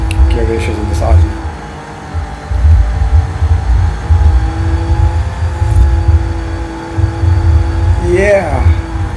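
An Audi race car in a racing video game, driven on a Logitech G923 wheel, holds a loud, steady engine drone that swells and dips as the revs rise and fall, with a sharper rev burst near the end.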